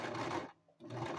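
A sewing machine stitches a quarter-inch shoulder seam on a toddler vest: two close, steady bursts of rapid whirring needle action separated by a brief pause.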